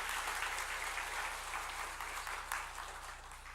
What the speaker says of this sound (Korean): 우리 같이 한번 박수 한번 하십시다